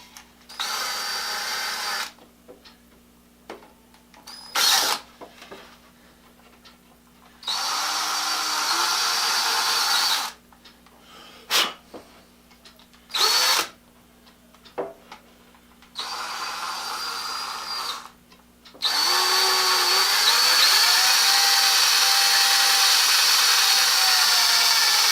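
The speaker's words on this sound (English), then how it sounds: "I'm going to drill a pilot hole in the end so that the screw won't split out this soft pine." Power drill boring a pilot hole into the end of a soft pine board, several loud whirring bursts of a few seconds each separated by quiet pauses, ending in a longer sustained run.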